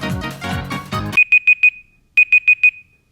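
A timer alarm starting a timed writing round, sounding as two sets of four sharp, evenly spaced electronic beeps separated by a short pause, right after a brief musical passage.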